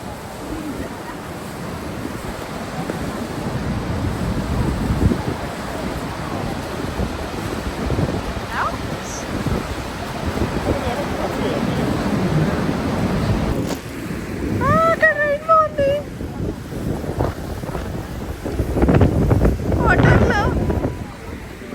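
Wind buffets the microphone and water churns around the Maid of the Mist tour boat near Horseshoe Falls at Niagara, a loud continuous roar with brief chirping bird calls and voices in the mix.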